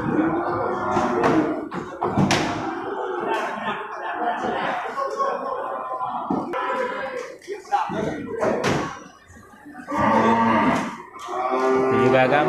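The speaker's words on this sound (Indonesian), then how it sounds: "Nah, Ini juga bakalan kerbau jantan ya." Water buffalo at a livestock market in Bireuen lowing intermittently amid market bustle, with people talking throughout and occasional knocks nearby.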